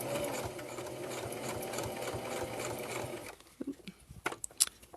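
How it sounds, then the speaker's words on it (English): Sewing machine back stitching fabric for a bookmark and pencil pocket, a steady continuous mechanical whirr for about three seconds, then stopping, followed by brief clicks and handling noises. "I'm going to do some back stitching here just to reinforce."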